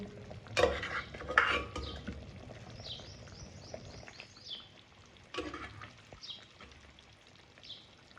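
Drumstick pods drop into a pan of curry and get stirred, a few clattering knocks and scrapes of a spoon against metal over a faint background simmer, quiet and close.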